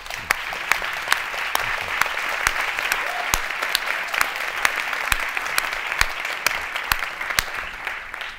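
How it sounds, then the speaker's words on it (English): Steady applause from an audience at a Harvard forum welcoming Colombian President Juan Manuel Santos, dense clapping filling the room evenly for several seconds with a few sharper claps standing out. "Let's give him another round of applause."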